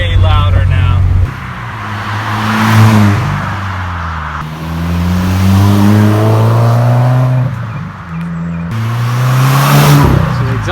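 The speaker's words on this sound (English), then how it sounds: "exhaust sounds pretty dang good." Rebuilt 2017 Subaru WRX with a new exhaust, heard from inside while driving: a steady, throaty engine drone that rises and falls through gear changes and throttle, loud and continuous throughout.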